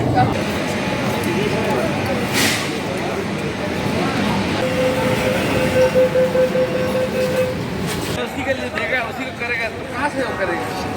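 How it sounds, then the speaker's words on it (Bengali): A metro train heads into the tunnel under the Hooghly river, a loud, continuous rumble with a thin sustained whine, while a voice talks over it. "ট্রেন এখন প্রবেশ করতে চলেছে হুগলি নদীর তলদেশে।"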